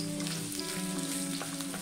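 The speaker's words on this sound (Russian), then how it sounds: "Когда масло разогреется, обжарить на нем кабачки до мягкости на среднем огне." Zucchini frying in hot oil over medium heat, a steady close sizzle with soft crackling throughout and no voices.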